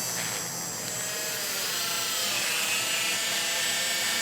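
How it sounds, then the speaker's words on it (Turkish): A Dremel rotary tool with a felt polishing tip loaded with car polishing compound buffs the edge of a chipped glass item, giving a steady, high-pitched whirring hum that runs continuously and close by, with no talking. "böyle bir dramel keçeyle parlatabilirsiniz"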